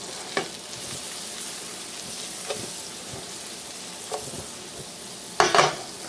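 Onion with salt sizzles in a pan over medium-low heat, a soft steady frying hiss broken by occasional stirring clicks and a louder scrape near the end, close and with no talk.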